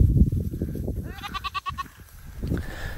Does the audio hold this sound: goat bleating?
yes